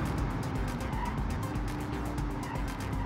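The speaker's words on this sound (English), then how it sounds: "It's a really rare combination of, you know, front wheel drive and V8 power and V8 noise." V8 engine in a front-wheel-drive car in BeamNG.Drive, a replica of a Nissan, Volvo or Ford engine: a steady, loud, throbbing engine drone with a fast pulsing rhythm that holds throughout, with no talk.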